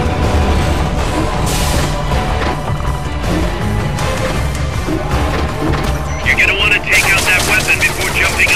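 A mech fires in the video game Metal Gear Solid Peace Walker, loud dense bursts of gunfire and crashing impacts layered with game effects throughout.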